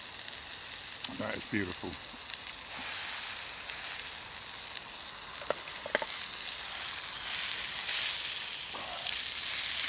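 Honey caramelising over a fire in a pan on a titanium Bushbox XL stove, sizzling and hissing steadily throughout, with a few clinks of a utensil and a brief spoken remark early on.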